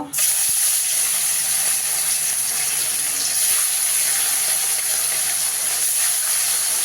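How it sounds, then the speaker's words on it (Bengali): Katla fish pieces, rubbed with salt and turmeric, fry in hot oil in a kadai, giving a loud, steady, close sizzle that holds evenly throughout with no talking. "এবার মাছ তেল বসিয়ে দিয়েছি এখানে কড়াইতে। এবার মাছটা ভেজে নেব।"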